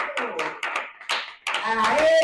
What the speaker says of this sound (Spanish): Aplauso al Señor.